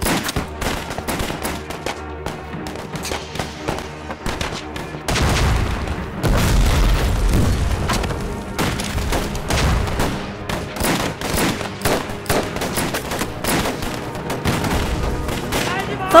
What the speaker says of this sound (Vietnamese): Pháo cối.